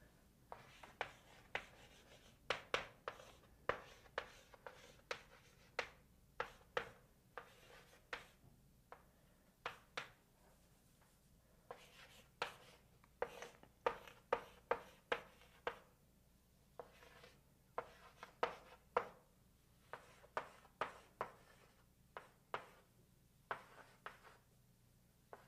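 Calculus working written out by hand, quiet close scratches and taps of pen on paper in short irregular strokes, continuing steadily with brief gaps.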